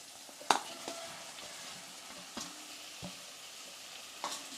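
Potato masala being stirred and fried in a pan, with soft scraping strokes and a few sharper clinks of the spoon against the pan over a faint continuous sizzle, close and moderately quiet.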